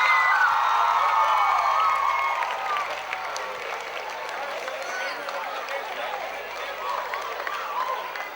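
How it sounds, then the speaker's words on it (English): Applause and cheering from a crowd at an award presentation rise and carry on steadily, with some shouting mixed in. "Let's give Mrs. Saman a round of applause"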